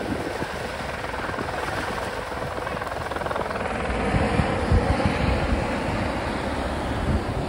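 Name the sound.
helicopter landing on luau grounds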